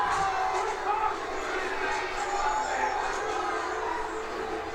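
A crowd cheering and shouting in a Game of Thrones episode, a dense, continuous roar of many voices held steady throughout at moderate loudness.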